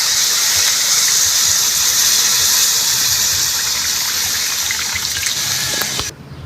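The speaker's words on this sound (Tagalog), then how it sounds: "Lalagyan na po tayo ng tubig para sa ating balat pampalambot." Water poured into a pot of spicy goat skin asado with soy sauce, a steady close splashing trickle running for about six seconds before cutting off abruptly.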